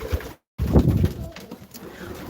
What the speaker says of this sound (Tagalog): Ayan ang pinakamatandang ibon dito sa loft.